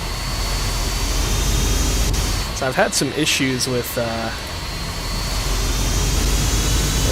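Jet engines of a Boeing 767-400 in the X-Plane 12 flight simulator: a loud, steady roaring drone throughout, with someone talking briefly over it in the middle.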